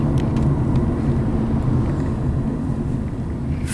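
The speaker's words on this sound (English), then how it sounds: "What is it? Tractor." A Kubota tractor rumbles steadily past at close range along a coastal loop road, a continuous low engine drone with some wind buffeting the microphone throughout.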